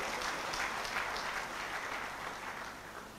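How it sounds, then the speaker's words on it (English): A church congregation gives a big round of clapping during a service, a continuous, moderately loud patter of many hands with slight swells, heard on its own without speech. "Give the Lord a big clap offering."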